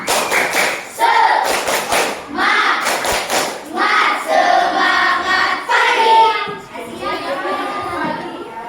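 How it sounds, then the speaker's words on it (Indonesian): A group of schoolchildren clap in a rhythmic pattern of sharp bursts alternating with chanting voices, loud and close in a classroom. "Tepuk semangat."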